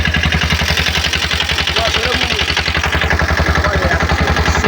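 A boat's engine drives the craft quickly through the Sundarbans waterways, giving a loud, close, steady chugging throb with a fast regular pulse and a broad roar of wind and water over it.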